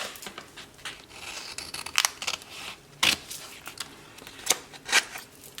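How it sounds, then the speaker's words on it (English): Scissors snipping a vintage lady picture out of a paper book page for a collage, with a run of short crisp cuts and paper rustles, several louder sharp snips standing out, close and alone. "let me cut out one of these ladies, at least one"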